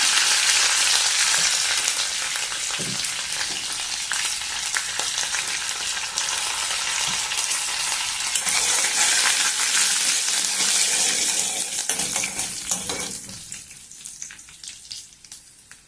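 Curry leaves and dried red chillies fry in hot oil with lentils, giving a loud, steady sizzle and crackle that fades near the end.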